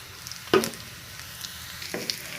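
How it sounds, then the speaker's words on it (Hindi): Chopped garlic and onions frying in a pan for a tarka for yellow moong dal, with a soft steady sizzle and a couple of brief louder stirring crackles, no talk. "इसमें हम फ्राई करते हैं"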